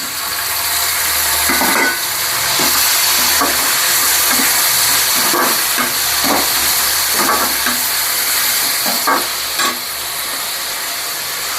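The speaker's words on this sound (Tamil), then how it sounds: "வெங்காயம் கொஞ்சம் கோல்டன் கலர் வரட்டும், வெயிட் பண்ணலாம். அதுக்கப்புறமா நான் தக்காளி சேர்த்துக்கிறேன்." Onions fry in a pan, browning toward golden for a tangy tamarind kara kuzhambu. A loud, constant sizzle fills the clip, with repeated scraping stirs of a spoon against the pan at close range.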